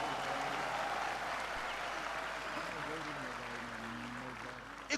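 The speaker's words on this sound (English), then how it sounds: "So please, Kenyans, applaud your president," Crowd applauding Kenya's president at a large launch event, a broad continuous clapping wash that fades slightly over the seconds, with a voice speaking faintly beneath it.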